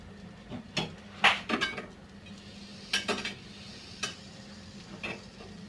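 Semolina-coated flaxseed harcha rounds are set into a frying pan, giving a few light clinks and soft taps of dough against the metal pan, spaced out and close by, with quiet kitchen background and no talk.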